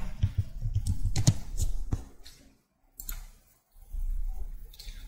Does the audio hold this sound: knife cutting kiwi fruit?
no